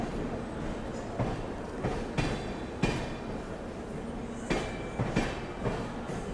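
Coaches of the Gomateshwara Express, including an S1 sleeper coach, roll past on the Mangaluru–Bengaluru line, the wheels thumping out regular clickety-clack beats over rail joints against a steady rumble, with no voices.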